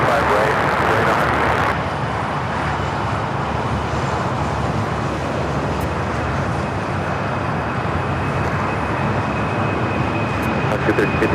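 Ex-Asiana Boeing 747 cargo jet at LAX, a loud, steady broadband engine roar that holds throughout with a slight drop in level after the first couple of seconds.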